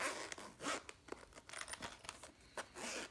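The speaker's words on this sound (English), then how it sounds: "Zipper is nice and tight, feels like good quality." Several quick zipping bursts, close and fairly quiet, with short pauses between pulls as a zipper runs along a case.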